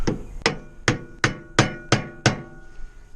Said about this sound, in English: and then I bring my hammer right here